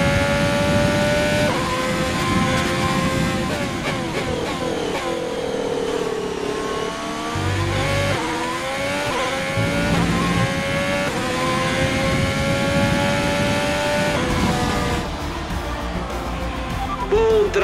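Formula 1 race car engine in F1 2020 at Bahrain, a loud, high whining roar that rises and falls through gear changes, with brief drops and rerevs and a voice speaking over it at times.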